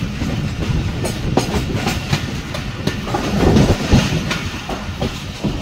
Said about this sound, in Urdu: لوکوموٹو بھی نظر آ رہا ہے پورا